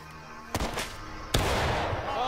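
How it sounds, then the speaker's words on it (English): Musket fire in the War of Rights video game, with two sharp, loud cracks about a second apart, each trailing into a rumbling echo and scattered distant shots. "Fire at will."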